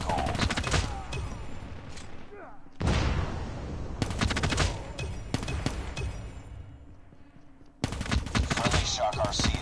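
Short bursts of tap-fired shots from a Cordite gun in Call of Duty Mobile, loud clusters separated by brief quiet gaps, with game announcer voice lines mixed in.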